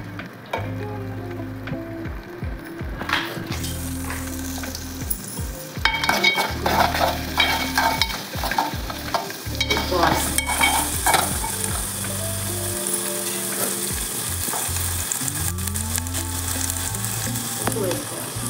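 Carrots and peanuts frying and being stirred in a pan for rava upma, a steady close sizzle broken by repeated scraping and clinking of a spoon against the pan throughout, with no talking.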